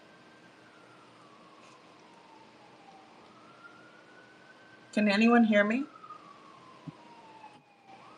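A distant siren wails steadily in the background, its pitch slowly rising and falling, while a person briefly speaks in the foreground.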